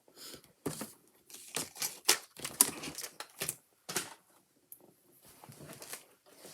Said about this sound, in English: I'm just going to cut that shimmery paper.